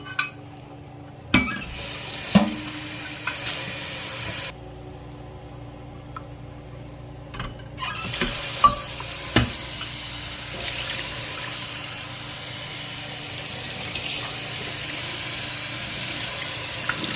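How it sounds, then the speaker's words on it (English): Water poured into a hot pan of browning basmati rice and potatoes for potato fried rice, a steady close rush and sizzle broken by a few sharp clinks of utensils against the pan. "When you see that, immediately slow down the browning process and add your water."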